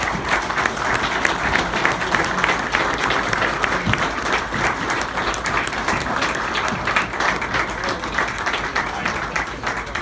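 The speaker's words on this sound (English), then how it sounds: "So let's bring the students up here, give them a round of applause, and get them all lined up." A crowd claps steadily for graduating firefighter students at a Firefighter One graduation ceremony, dense sustained applause throughout with no talk.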